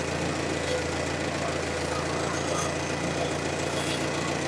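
A 1954 Ford NAA tractor engine runs with a steady, low mechanical rumble and chugging throb, continuous and close throughout.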